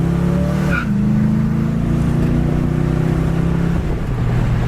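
A 1967 Ford Mustang convertible with a small-block V8 driven hard, its loud close engine note climbing through a shift and holding a strong throaty roar, with a brief tire chirp early on.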